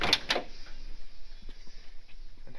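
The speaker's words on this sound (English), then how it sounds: "You hear the door? Like, crisp." A heavy International truck door swings shut with two crisp, solid thunks close by at the start, followed by quieter ambient noise and faint handling sounds.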